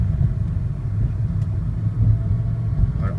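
A 1999 Ford SVT Contour's engine rumbles steadily at a low pitch while driving, a constant deep drone with no voices.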